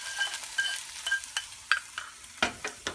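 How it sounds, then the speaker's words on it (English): Pumpkin halwa being stirred with ghee in a pan, giving soft scraping strokes in an irregular rhythm with a faint sizzle beneath, close and fairly quiet. "Now you can keep on stirring it until the ghee mixes with the halwa."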